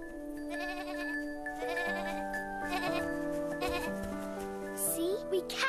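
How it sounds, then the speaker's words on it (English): Two grumpy mountain goats bleat in an animated Heidi cartoon on a mountain path, wavering cries repeating close and loud over background music, with characters talking in between. "let's get Little Miss Know-It-All before those two grumpy goats lead her back down the mountain."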